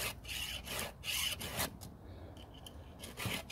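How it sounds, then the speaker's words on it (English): A file sharpening the teeth of a Stihl 009L chainsaw chain, a run of close rasping strokes in a steady rhythm with brief pauses between passes. "Most people recommend you move the chain with the file."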